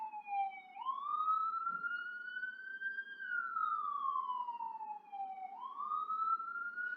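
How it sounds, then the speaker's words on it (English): An ambulance siren wails in slow rising and falling sweeps as it passes, somewhat distant, with low traffic rumble underneath. "there's an ambulance going by right now"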